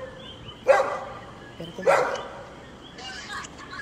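A dog barks from the floor above, two sharp, fairly loud barks about a second apart followed by fainter yips, while someone speaks close by.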